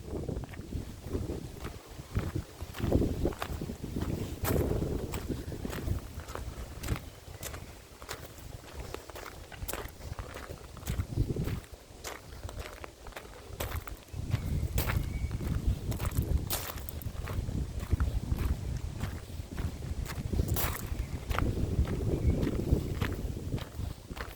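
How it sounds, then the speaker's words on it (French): Gusty wind buffets the microphone on a walk around Chartres Cathedral, with a constant low rumble, repeated louder gusts and footsteps underneath. "mais c'est venteux"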